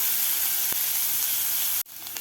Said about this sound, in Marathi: व्यवस्थित आपल्याला कांदा परतून घ्यायचा आहे